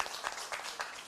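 An audience at a Ugandan vocational qualifications results event claps for ministry officials, a short burst of steady, moderately loud applause from a crowd.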